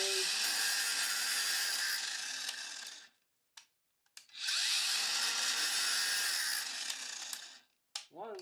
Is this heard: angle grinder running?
yes